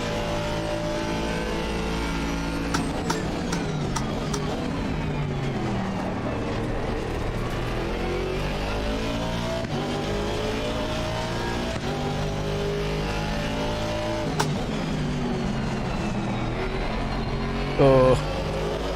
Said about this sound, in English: These GTRs are quick in a straight line as well